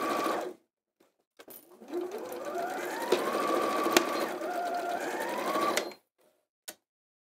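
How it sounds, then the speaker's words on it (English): A domestic sewing machine stitches fabric in one continuous whirring run of about four seconds, close and clear, its motor pitch rising and falling slightly, with a short click after it stops. "when you're sewing on your machine"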